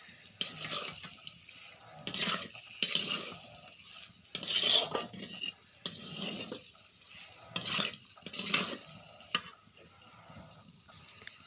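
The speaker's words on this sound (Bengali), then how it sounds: "তো আলু পটলগুলো দিয়ে একটু নাড়িয়ে নেব।" Potatoes and pointed gourd being stirred in a pan for a korma, with repeated scraping and clinking strokes of a spoon against the pan over a soft sizzle, loud and close, with no talking.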